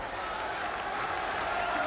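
Wrestling crowd in the Boston Garden rising into steady cheering and clapping during a WWF match, a dense continuous roar with a commentator talking over it.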